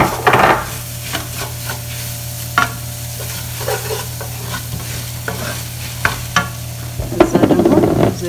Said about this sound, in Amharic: አሁን የዶሮ እግር ሬዲ እስከሚሆን እኛ ሽንኩርታችንን እናቁላላለን።